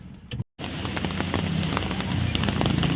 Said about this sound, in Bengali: বাইরে কিন্তু বিশাল জোর বৃষ্টি পড়ছে।